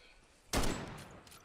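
A flare gun firing in a Bigfoot multiplayer video game: a single loud, sharp shot with a short fading tail.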